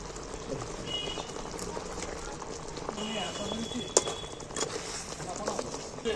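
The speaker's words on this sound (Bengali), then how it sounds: "ঝালটা দেখো ফুটে গেছে" Fish curry gravy with fried fish pieces simmers at a boil in a pan, a steady bubbling and popping texture with occasional sharper plops, close and continuous at moderate level.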